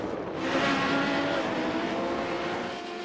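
A black BMW M8 race car crosses the line at a Radical Series warm-up race, its engine a steady, loud roar for about three seconds that swells slightly and then eases as it passes.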